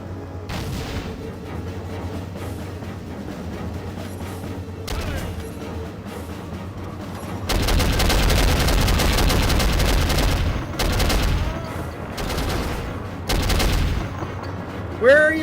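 Gunfire in the PC shooter Soldier of Fortune from 2000, dense bursts of shots and booming impacts that swell loud in the middle and rattle on in repeated volleys over a steady game background.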